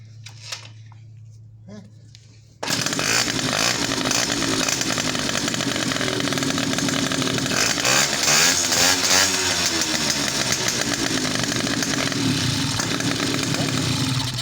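A small two-stroke engine, freshly repaired carburetor, starts after a brief pause and runs steadily at a loud, buzzing idle, close by, with some uneven revving; exhaust outlet covered with a rag.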